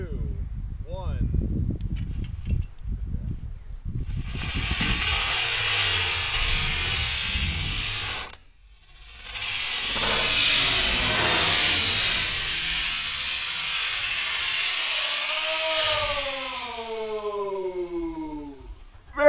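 A sharp whoosh and loud roaring hiss of a D model rocket motor firing at launch in windy, rainy weather, lasting several seconds with a brief break, near and intense.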